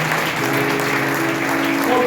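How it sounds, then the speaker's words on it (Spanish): A church congregation claps together during an evangelist's sermon, a dense, loud, steady burst of applause filling the room with a few voices mixed in. "Den un aplauso a Jesús."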